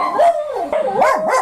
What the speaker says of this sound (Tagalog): ang mga aso namin nag-iingay talaga